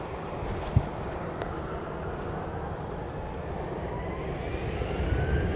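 An airplane lines up on runway 31 right at Dallas Love Field, its engines giving a steady, fairly distant broadband rumble and whine that holds even throughout and swells slightly near the end, with no talk.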